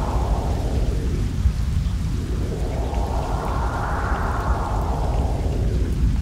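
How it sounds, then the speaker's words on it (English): Evening rain hisses as a steady broadband wash while wind sweeps slowly rising and falling through it, continuous and fairly loud with no voices, in a guided-meditation soundscape. "Become one with the rain and the wind of this evening."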